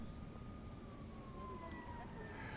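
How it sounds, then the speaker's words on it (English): Distant emergency sirens wail near a presidential motorcade route close to an airport, rising and falling faintly over steady broadband street and crowd noise. "We're hearing a lot of sirens over here that may be associated with that."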